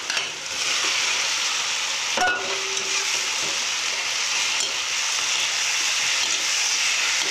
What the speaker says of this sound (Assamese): এতিয়া ফ্ৰাই কৰি থোৱা কণী আৰু আলুবোৰ দি দিম